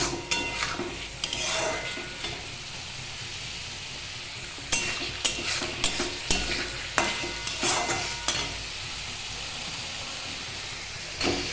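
Cabbage frying in a pan for a cabbage curry, a steady sizzle broken by repeated spatula scrapes and clanks as it is stirred, loud and close, with no talking.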